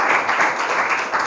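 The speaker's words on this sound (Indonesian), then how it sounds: "Tepuk tangan semuanya buat Saput." Brief burst of clapping from students in a grade 7 mathematics classroom, a dense, fairly close patter of hands lasting just over a second.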